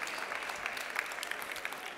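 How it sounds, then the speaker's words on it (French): Audience applause at a live stand-up comedy show, a steady dense wash of many hands clapping, fairly loud and continuous with no talk over it. "Vous pouvez l'applaudir."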